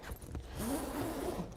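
Zipper being pulled shut on a Louis Vuitton-style designer coffin shaped like a sports bag, a continuous rasping run of moderate loudness lasting over a second, with no talk over it.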